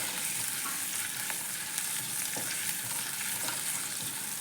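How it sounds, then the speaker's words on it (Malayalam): Crushed ginger, garlic and green chilli sauté in a pan for a fish curry, giving a dense, loud, continuous sizzle with occasional faint scrapes of stirring. "ഇഞ്ചി, വെളുത്തുള്ളി, പച്ചമുളക് ചതച്ച് വെച്ചത് ഇട്ട് കൊടുക്കാം. അപ്പോൾ ഇതൊന്ന് നമുക്ക് ചെറുതായി വഴറ്റിയെടുക്കാം."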